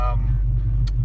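A rebuilt LT1 V8 idles hot at about 180–185 coolant temperature, a deep, steady low rumble heard up close, with a brief voice at the start.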